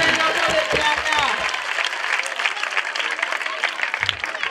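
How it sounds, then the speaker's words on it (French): An audience applauds the children of Biaka after their performance, with dense, steady clapping from a crowd throughout and a voice speaking over it at the start. "On applaudit."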